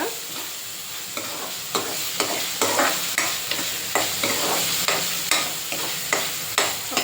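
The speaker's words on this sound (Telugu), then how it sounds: "ఫైవ్ మినిట్స్ దీన్ని ఇలా పచ్చివాసన పోయేదాకా వేపుతున్నాం" Ginger garlic paste and turmeric fry in a hot pan under a steady sizzle, with regular scraping stir strokes about every half second, close and fairly loud, with no voices.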